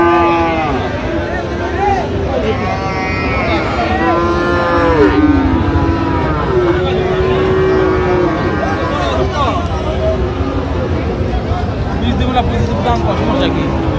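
Friesian bull calves at the Raniganj cattle market give several drawn-out moos at mid distance, over a steady crowd murmur, with people talking throughout.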